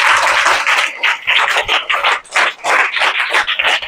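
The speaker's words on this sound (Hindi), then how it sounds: "पहले जोरदार तालियां" A class of young students applauds loudly in a classroom, giving dense, uneven bursts of clapping that swell and dip for a few seconds.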